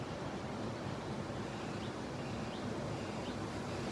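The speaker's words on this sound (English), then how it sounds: "can you see the waves pretty well?" Ocean waves wash steadily ashore at sunrise, a broad continuous surf roar with a touch of wind across the microphone and no voices.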